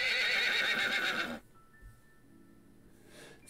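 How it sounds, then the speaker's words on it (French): A horse neighs loudly and close by in a long, shrill, quavering whinny that lasts more than a second and then cuts off abruptly, followed by a quiet room with faint background noise. "Uma no koe desu. Donc c'est Uma le cheval"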